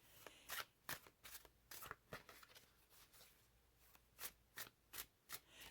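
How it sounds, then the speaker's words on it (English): A Dungeons and Dragons tarot card deck shuffled by hand, quiet and close, with about a dozen crisp riffling bursts in an uneven rhythm. "Let's see the shuffle. Oh, they shuffle nicely."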